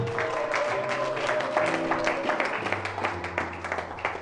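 A church congregation breaks into applause during a sermon on prayer, a steady, fairly loud wash of clapping lasting several seconds, with sustained keyboard-like tones underneath.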